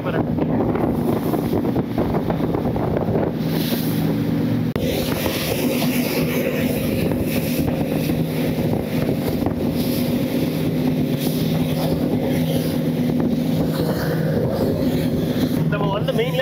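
A catamaran speeds across the open sea off Fiji's islands, engine hum and steady rushing water blended with heavy wind buffeting the microphone, a voice talking throughout.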